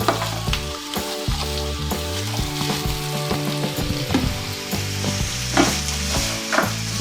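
Chopped elephant foot yam with green chillies hits a hot pan for a Kerala stir-fry, giving a steady close sizzle and frying crackle throughout, with tonal background music underneath.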